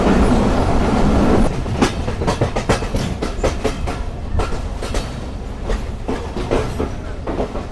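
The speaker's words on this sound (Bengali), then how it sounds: "আন্তনগর বাংলাবন্ধ এক্সপ্রেস প্রবেশ করছে নাটোর রেলওয়ে স্টেশনে" The Banglabandha Express intercity train rolls into Natore railway station with a steady rumble and a rhythmic clickety-clack of wheels over rail joints, loud and close, with no voices.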